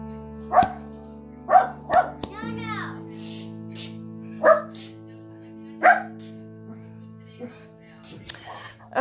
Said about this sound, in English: And now my dog barks.